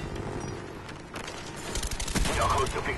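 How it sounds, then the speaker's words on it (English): A suppressed Commando rifle in Call of Duty Black Ops fires a short flurry of muffled shots, with the bursts growing louder toward the end amid game ambience and some speech-like sound. "This gun is a decent suppressed weapon."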